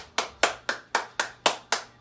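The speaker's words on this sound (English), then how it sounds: "warm up our hands, rubbing them together, doing a couple claps." Seven crisp hand claps in a steady, even rhythm during a qigong warm-up, close and clear over a quiet background.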